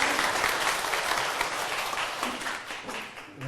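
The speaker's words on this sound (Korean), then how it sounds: "덕비도 박수 한번 부탁드립니다" An audience applauds steadily at a Korean Buddhist lecture event, a dense, even wash of clapping that holds near and loud for several seconds before thinning slightly at the end.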